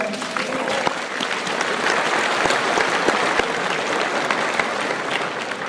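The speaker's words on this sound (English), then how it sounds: "Give him a round of applause, by the way." Sustained applause from a seminar audience for an attendee asked to stay standing, dense and steady throughout with sharp individual claps poking out, loud and close, no talking.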